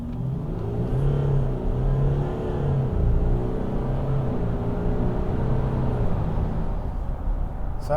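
A VW Amarok 3.0 TDI diesel engine runs hard on a dyno, producing a loud, steady drone whose pitch slowly rises and dips over the full run, with no voices.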